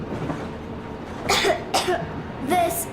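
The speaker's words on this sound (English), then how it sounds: "I have this cough." A girl coughs three times in short, separated bursts over a low background hum in the video game Metro Exodus.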